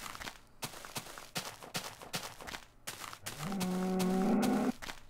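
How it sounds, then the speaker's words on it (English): A cow in the Minecraft video game gives one long, loud, droning moo, preceded by a steady series of crisp, rhythmic footstep clicks. "I got 1 cow there and another cow"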